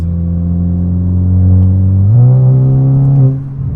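A tuned SEAT Cupra 5F, Stage 2+ at 420 hp, idles with a deep, loud exhaust drone, then its pitch steps up in a rev before settling back down, close up and with no talking.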